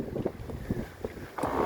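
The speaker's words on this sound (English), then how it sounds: "and the wind just picked up" Wind rushes steadily past a heeled-over sailboat moving at about seven knots, a soft low roar with faint creaks and water sounds and no voices.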